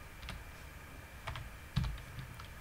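Keys clicking on a computer keyboard while code is typed, a few sparse, quiet taps spread across a short stretch with low background hum.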